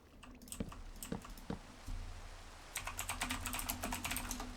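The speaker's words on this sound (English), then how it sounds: "I hope my keyboard isn't too loud when I'm playing WoW" Clicky computer keyboard keys struck during a World of Warcraft session, a few spaced taps at first, then a denser burst of close typing, with no talk over it.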